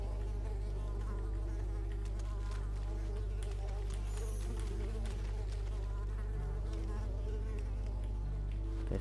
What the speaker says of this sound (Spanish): ¿Me siguen los mosquitos? ¡Socorro!